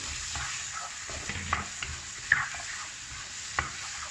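Boiled chickpeas tossed into a spice masala in a pan for a spinach dish, frying with a constant sizzle and soft scraping stirs, plus a few light spoon taps against the pan.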